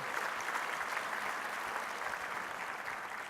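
Faint, distant applause from a conference audience at a closing speech, a soft even wash of many hands clapping without pause.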